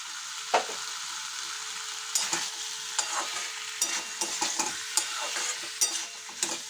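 Flat beans and potatoes stir-fried in a pan over a soft, steady sizzle. A spatula scrapes and taps the pan at irregular intervals, the sound close but fairly quiet, with no voices.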